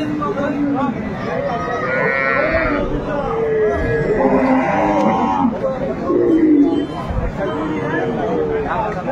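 Dairy cows and calves at the Aftabganj cattle market in Dinajpur, with several loud, drawn-out moos rising over the busy chatter of traders close by.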